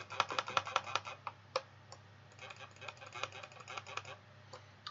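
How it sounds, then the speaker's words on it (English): Rapid bursts of quiet computer mouse clicks come from a landscape sculpting session, close and crisp in irregular clusters with short pauses between runs, over a low steady hum. "I'm just gonna left click a bunch of times."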